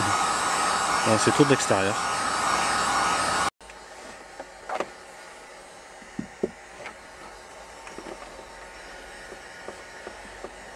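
A hair dryer heats a sticker from the outside, giving a loud, steady whir for a few seconds before it stops abruptly, leaving a quiet room where a person speaks briefly amid small handling noises.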